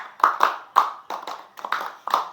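Hands clap in a classroom clapping game, a run of sharp, close claps in short irregular groups with brief pauses between them.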